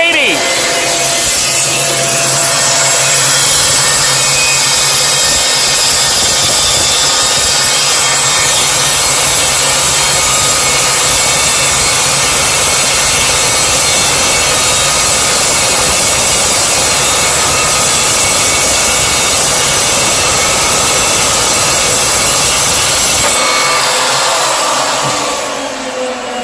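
An Evolution Evosaw380 cold-cut saw cuts through 1-inch solid square steel stock, a loud, sustained harsh grinding whine close by that holds for over twenty seconds before the blade spins down at the end.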